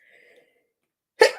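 A single sharp, loud sneeze bursts out after a faint, quiet tone and a moment of silence.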